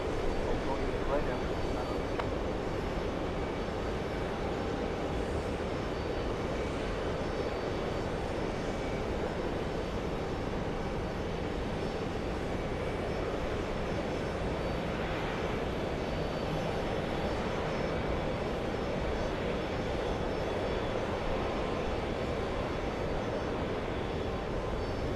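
An Airbus A321 jet readies for takeoff on an airport runway, its engines a continuous, even roar lasting throughout, moderately loud and distant, while people speak intermittently beneath the drone.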